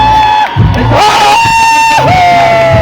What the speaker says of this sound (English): So can we have a big round of applause for